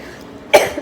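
A single short, sharp cough from a woman who has been unwell, heard close and alone after a moment of quiet room tone.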